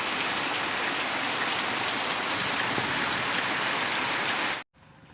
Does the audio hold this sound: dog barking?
no